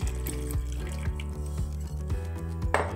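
Room-temperature water pours into a bread dough mixture for cheese and ham rolls, a steady close splashing trickle that runs throughout over background music.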